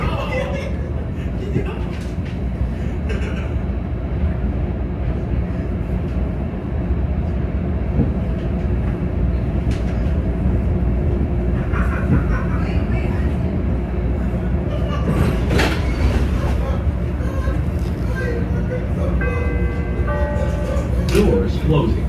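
A Chicago L Orange Line elevated train bound for Midway running through the Loop, with a continuous loud rumble and rattling wheels, squeals and clanks, and an onboard announcement voice speaking over it.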